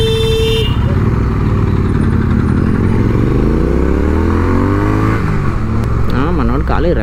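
A Triumph triple-cylinder motorcycle engine revs loud and close through downshifts, its pitch climbing and falling in repeated sweeps with quick blips of rev matching, a raw, continuous drone filling the whole stretch.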